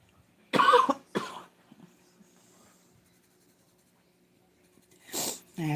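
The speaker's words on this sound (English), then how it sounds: "I have a feeling I will be coughing coffee for a while now." A few sharp coughs close by, a pair at first and another burst a few seconds later, with quiet stretches between.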